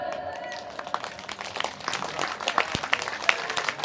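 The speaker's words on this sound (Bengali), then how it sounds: "এবার একটু করতালি দিন।" Audience at a devotional kirtan clapping hands, a scattered, uneven patter of claps that builds slightly louder toward the end, mixed with crowd murmur.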